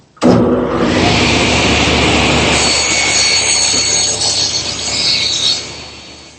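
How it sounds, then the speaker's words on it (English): A table saw trims a sliver off wooden pieces in a woodworking shop, the blade's loud, steady whine starting abruptly and holding as the wood feeds through, then tapering off near the end. "The first step is to trim just about a 1/16 of an inch off all the pieces."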